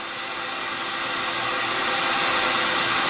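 A steady, loud broadband whoosh of a CamVac CGV286 workshop dust extractor venting outside, its airflow roar even and unbroken with no voices.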